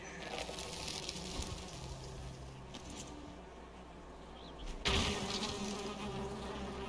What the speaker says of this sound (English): Second set of bees.